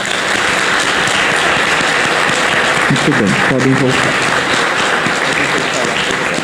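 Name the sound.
church congregation applauding altar servers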